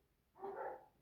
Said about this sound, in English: Please excuse the dog, it's my neighbor's dog.